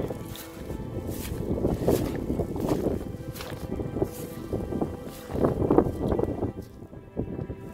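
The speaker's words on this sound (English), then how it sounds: "Hope you can hear us because it's very windy." Steady, blustery wind roars across the microphone outdoors on a North Pennines hillside walk in Cumbria, rising and falling in gusts with some rustling and footsteps underneath.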